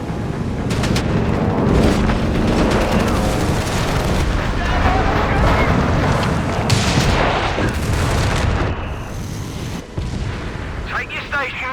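Gunfire and artillery from the video game Company of Heroes 3 in a dense, loud battle: repeated booms and sharp bursts crowd one another throughout, and voices from the game can be heard among them.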